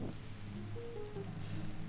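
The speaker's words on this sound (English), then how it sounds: "the rain would have put out the fire" Steady rainfall in The Legend of Zelda: Tears of the Kingdom, a constant wash of falling drops with faint low tonal game sounds beneath it, no talk.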